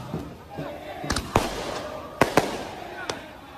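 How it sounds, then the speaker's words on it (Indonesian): Firecrackers and fireworks burst in an irregular series of sharp, loud bangs over a steady background hum of a football crowd. "Ada mercun-mercun lagi bunga kembang api."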